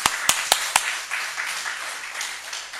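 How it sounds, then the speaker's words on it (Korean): Audience clapping at a congregational gathering in honour of a unified Korea: a few sharp, evenly spaced claps up front, then softer, diffuse applause trailing on. "통일 한국을 위해서 박수 한번 칩니다"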